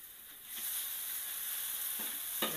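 Fried kway teow with shrimp paste being stirred in a wok makes a quiet, steady hiss of frying, with a few soft scrapes and clinks of the spatula against the metal.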